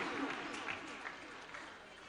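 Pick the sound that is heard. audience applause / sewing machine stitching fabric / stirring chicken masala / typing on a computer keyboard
audience applause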